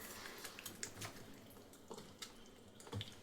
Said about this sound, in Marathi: ह्याला व्यवस्थित असं वॉश करून म्हणजे स्वच्छच धुवून घ्यायचं